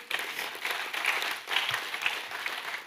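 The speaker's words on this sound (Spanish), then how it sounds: "Démosle un aplauso al Señor." A church congregation applauds during a sermon, a moderate, fairly distant patter of many hands clapping in uneven swells across the short stretch.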